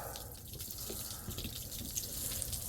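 Salt water being blown out through the rudder of a Pro Boat V2 SonicWake RC boat after a crash, a steady wet hissing and dribbling spray that runs continuously, close up, with no talking.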